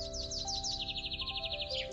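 A small bird chirps in a rapid series of bright, repeated high notes. The calls sit close over a soft, steady background hum, with no one talking.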